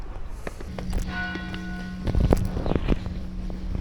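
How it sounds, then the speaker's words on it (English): Cathedral church bells ringing in a Portuguese town, a few clear tolling strikes with a sustained hum between them, heard outdoors over footsteps and street movement. "we're looking for the cathedral now, and those bells."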